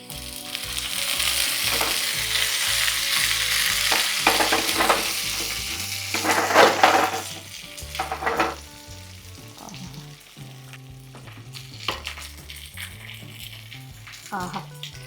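Onions and coriander leaves fry loudly in a pan for a Malabar-style neymeen fish curry, a dense sizzle with stirring and scraping that later eases, under intermittent talk and background music.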